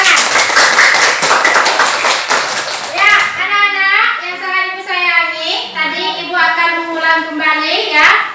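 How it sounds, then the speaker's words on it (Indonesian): Children in a classroom clap together for a few seconds after a group discussion, then a teacher's voice talks over a quieter room with scattered taps. "mari kita tepuk tangan untuk kita semua yang sudah melakukan"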